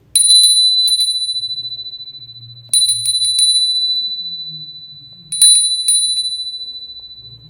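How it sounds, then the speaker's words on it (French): A small bell struck three times at an even, unhurried pace, each bright metallic ring sounding clearly and then fading slowly in a quiet room, with no voices. "je vous donnais juste un petit coup de cloche pour dire que c'est terminé"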